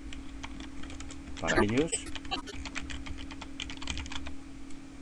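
A message is typed on a computer keyboard as a quick series of close, light key clicks. A brief spoken phrase breaks in early on.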